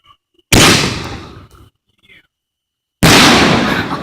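A firework mortar shell fires with a sharp, loud launch pop that trails off, then after a short gap a second heavy burst booms outdoors; people talk briefly around the blasts.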